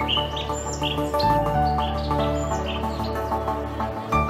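Parrots chirp in a dense jungle, short bright calls repeating over a steady layered background of birdsong and music.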